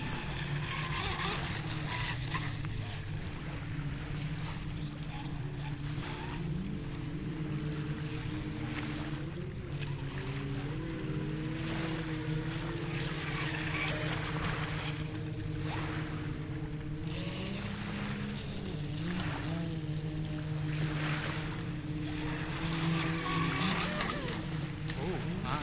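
A Wltoys WL913 brushless RC boat on a 4S lipo battery runs at full throttle on water, a steady high-pitched motor whine with churning water, continuous for the whole stretch, with people talking over it.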